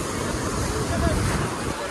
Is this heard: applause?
no